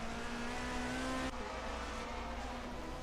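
1979 DRM Division 2 race cars at the Mainz-Finthen airfield circuit racing past side by side, a continuous loud engine roar with a sharp change in pitch as they pass.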